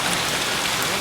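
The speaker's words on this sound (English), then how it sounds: "We got about some pea-sized hail there" Pea-sized hail, about the size of half a dime, falls outdoors in a steady, dense, close patter with no break.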